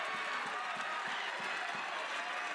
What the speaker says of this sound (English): the Big Red faithful that are here finally have something to cheer about